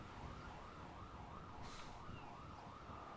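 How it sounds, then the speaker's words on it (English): A police siren wails, rising and falling steadily in the background of Grand Theft Auto V gameplay, with a brief burst of noise midway through. "I hear all the sirens."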